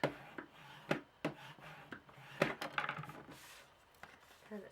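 A bone folder presses and rubs across lace-trimmed card paper in a crafting session, giving soft scraping strokes broken by sharp taps and clicks, close and quiet.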